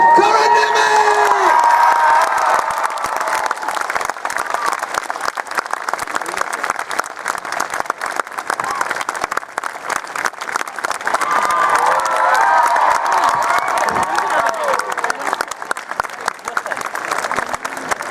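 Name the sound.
audience applauding and cheering at a convention stage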